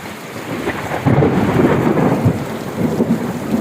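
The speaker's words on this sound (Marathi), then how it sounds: "खूप मोठ्याने गरजत आहे. आवाज येतोय आपल्याला." Loud rumbling thunder during the first heavy monsoon rain on a Maharashtra farm, a deep rolling roar swelling over steady rainfall with no talking.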